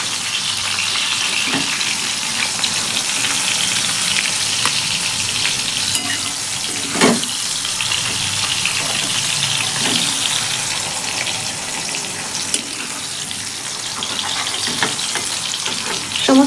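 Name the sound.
green beans frying in oil in a pan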